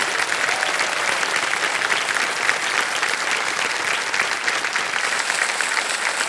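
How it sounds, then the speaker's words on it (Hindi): Studio audience on a television quiz show breaks into loud, dense, sustained applause, an even roar of clapping for over six seconds with no voices on top. "तालियां बज जाए इनके लिए।"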